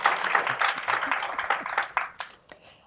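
An audience at a higher-education conference session claps and cheers, a dense wash of applause that thins out into a few scattered claps toward the end.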